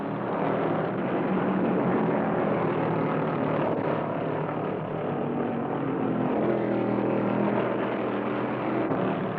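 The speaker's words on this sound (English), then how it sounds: "Petty's car sounds better on every lap." Stock cars racing at Bristol in the 1975 NASCAR Winston Cup Southeastern 500, including Richard Petty's car, make a loud, steady engine roar that holds constant throughout without a break, with no voices heard.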